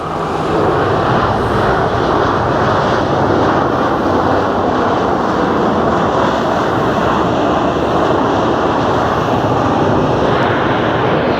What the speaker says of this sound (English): On final approach, absolutely buttered the landing